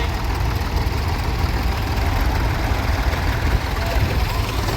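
A David Brown 880 Selectomatic three-cylinder tractor engine idles steadily at a tractor show, a continuous low rumble with no break in the noise.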